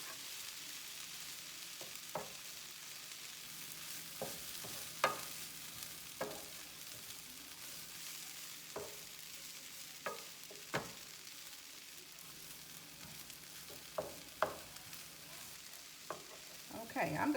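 Stuffed pork loin filling being mixed in a pan on a switched-off stove, a faint low sizzle broken by spaced spoon taps and scrapes every second or two, quiet and without speech.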